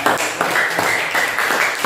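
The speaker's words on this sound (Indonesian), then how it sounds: "beri tepuk tangan kepada kelompok 4" A classroom of students claps for a presenting group, steady brisk applause from many hands nearby with no talking.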